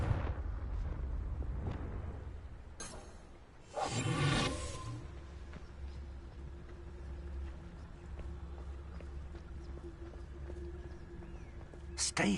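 A Confringo blasting spell explodes in Hogwarts Legacy, a brief loud burst with a crackling tail standing out from a quieter ambient bed, with speech heard around it.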